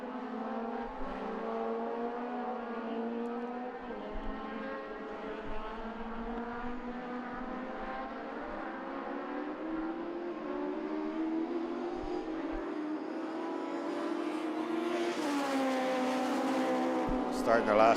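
Race cars lap the Mondello circuit, engines droning and shifting pitch as they run past at a distance, a continuous motor roar that rises near the end, under a commentator's voice.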